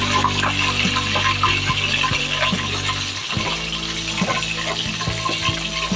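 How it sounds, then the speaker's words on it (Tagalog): Dried milkfish (daing na bangus) fries in oil in a pan, giving a steady close sizzle and crackle with occasional clinks and scrapes of a utensil. "Ang ganda po ng pagkaka prito sa ating daing na bangos."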